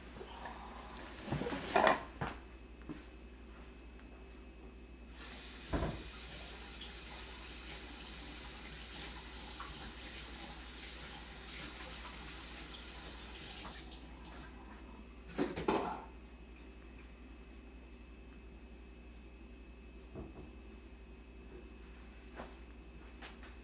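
A kitchen tap runs steadily for several seconds while greasy hands are washed, with clinks of dishes and handling noises before and after the stream.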